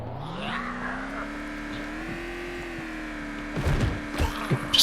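A car engine in the zombie survival game VEIN, holding a steady mid-pitched hum that rises slightly as it drives, then broken by louder clunks and impacts near the end.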